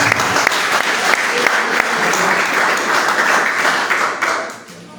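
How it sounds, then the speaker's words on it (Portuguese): A church congregation applauds the name of the Lord during a Portuguese-language evening service, a loud, close burst of many hands clapping steadily for several seconds before fading out near the end. "Podeis aplaudir o nome do Senhor, em nome de Jesus."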